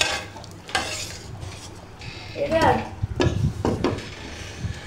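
Hot tempering is poured into a beef and chana dal curry, giving a brief hiss and sizzle amid clinks and stirring of a pot, close and moderately loud.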